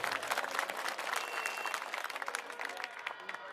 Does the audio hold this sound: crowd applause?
yes